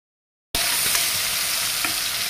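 Chopped large tomato sizzling and frying in a pan, a steady loud hiss that starts abruptly after a short silence, with faint stirring scrapes.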